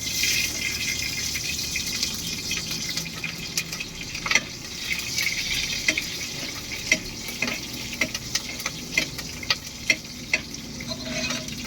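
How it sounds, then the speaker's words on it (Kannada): Mustard seeds hit hot oil and sizzle and pop in a pan, a soft frying hiss broken by many quick crackles that grow more frequent toward the end. "ಎಣ್ಣೆ ಬಿಸಿಯಾಗಿದೆ ಸಾಸಿವೆ ಹಾಕ್ತೀನಿ ಸ್ವಲ್ಪ ಹಾಕ್ತಾ ಇದ್ದೀನಿ"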